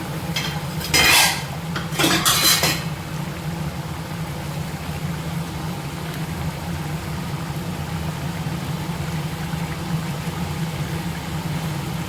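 Ground-masala egg gravy sizzles and bubbles steadily in a pan, with a couple of brief scraping stirs near the start, then a continuous even frying hiss, heard alone.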